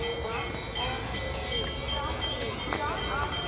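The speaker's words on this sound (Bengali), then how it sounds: "আমাদের এখানে ট্রেনটা ঢুকছে, এই ট্রেনটাই হাওড়া যাবে।" A train pulls into platform 1 at a station, bound for Howrah, with a low rumble of rolling wagons and faint clanks in the background while people talk nearby.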